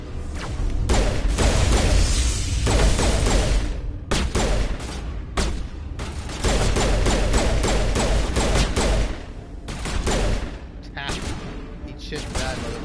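Gunfire from a Mass Effect firefight, dense sustained bursts of automatic fire in loud overlapping volleys with brief gaps, mixed with impacts and some shouted dialogue.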